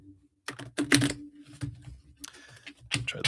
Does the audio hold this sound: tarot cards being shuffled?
yes